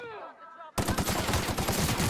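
Sudden rapid gunfire rips out in The Outer Worlds, a loud, continuous burst of fast shots that follows a short stretch of quieter tonal sounds.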